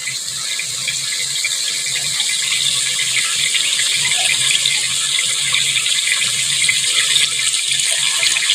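Water added to spices frying in a pan for a home-style palak chicken curry, giving a steady loud hiss and sizzle that holds evenly throughout with no talking.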